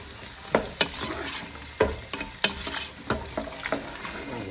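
A sofrito of carrots, onion, celery, potatoes and garlic fries in hot extra virgin olive oil, a steady close sizzle broken by several sharp clacks and scrapes of a spoon stirring the pan.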